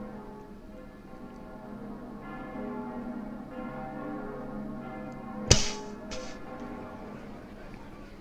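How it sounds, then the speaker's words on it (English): Ominous pilgrimage bells ring in a video game, a sustained, resonant tolling hum with a sharp, bright strike cutting through near the middle before the ringing carries on. "Is that one of the bells of pilgrimage?"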